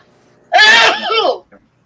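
A single loud, sharp sneeze bursts out close by, followed by a brief voiced tail and a tiny sound afterward.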